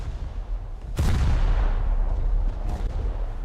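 Naval artillery fires in the War Thunder video game. One loud, close cannon blast booms and rolls into a long rumbling tail, and a fainter second shot follows a moment later.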